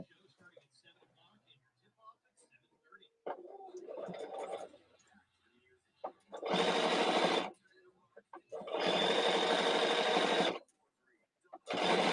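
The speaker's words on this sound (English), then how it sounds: "I'm going to sew this on." A sewing machine stitches fabric for a pin cushion in loud sustained bursts of rapid whirring, with pauses between runs and faint rustling and handling noise in the quieter gaps.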